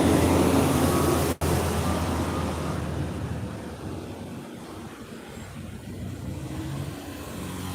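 A Brinks armored truck and other vehicles pass along a busy street in the Poblado area of Medellin, Colombia, producing a continuous loud roadway rumble that slowly fades as traffic moves on.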